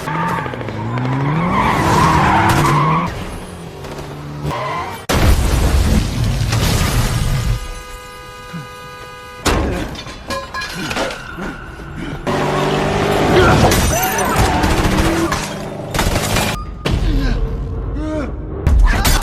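Movie action scene with a car skidding and slamming into a forklift: loud tire screeches, heavy crunching impacts and booming crashes, set among a busy, dramatic film soundtrack with sudden bursts and brief quieter gaps.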